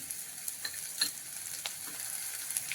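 Turmeric tempering in hot oil for a yogurt kadhi gives a soft, steady sizzle, with scattered light stirring clicks and scrapes against the pan, heard faintly up close.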